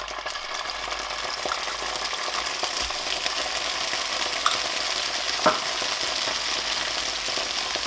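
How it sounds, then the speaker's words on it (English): Thai green curry paste fries off in vegetable oil, producing a continuous close sizzle and bubbling with a few scraping stirs and small pops, no one speaking. "we need to fry that off"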